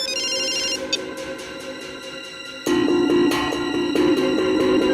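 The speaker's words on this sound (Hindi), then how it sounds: "इसका मतलब है पायल का ये फोन, इसका रिंगर, ये ट्रिगर है।" A phone ringing with a bright, repeating electronic ringtone melody, growing louder partway through and continuing steadily to the end.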